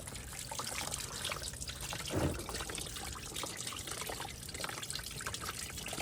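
Engine coolant draining from the removed lower radiator hose of a 2005 Chevrolet Silverado into a catch pan, a steady, quiet trickle of liquid running throughout.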